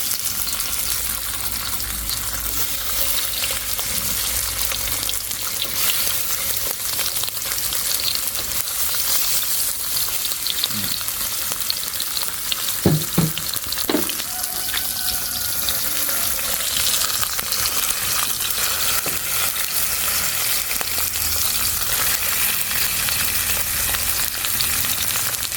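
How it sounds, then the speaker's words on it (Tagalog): Pork skin sears in a hot pan with a dense, continuous sizzle and crackle. Occasional clanks and scrapes from handling the meat sound close by, and no one speaks. "Crispy natin ng konti muna itong balat para sulutuin natin."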